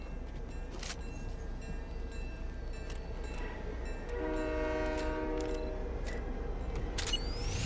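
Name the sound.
train passing in Fortnite video game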